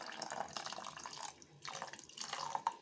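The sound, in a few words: pouring strained horse gram water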